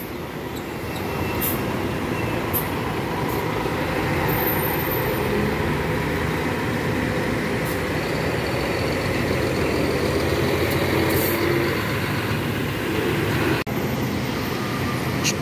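A long-distance sleeper coach on the São Bernardo do Campo to Belo Horizonte route rolls into the busy Belo Horizonte bus station during Carnival, a steady loud engine rumble filling the scene with no talk.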